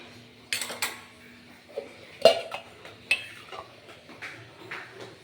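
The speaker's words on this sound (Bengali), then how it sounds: "এবার ঢাকনাটা খুলে নিয়ে তোমাদেরকে আমি দেখাচ্ছি কেমন হলো" The lid comes off a pot of steamed hilsa fish with several metallic clanks and scrapes, one sharp clang standing out among lighter knocks, all close against a quiet background.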